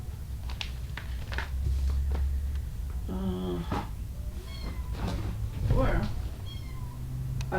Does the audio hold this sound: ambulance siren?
no